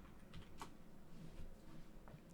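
Typing on a computer keyboard, soft scattered key clicks close by at a quiet level, with a sharper tap at the end.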